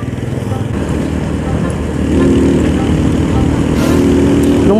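A motorcycle engine passes in a steady, fairly loud drone over roadway noise, swelling slightly partway through and rising again near the end.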